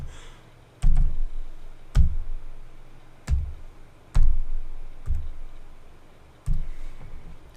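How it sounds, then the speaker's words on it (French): Keys pressed one at a time on a computer keyboard while entering a CAPTCHA during Skype account setup, producing about seven separate, fairly close taps spaced roughly a second apart over a faint background hum. "il va me demander donc de taper un CAPTCHA pour valider que je suis bien un être humain"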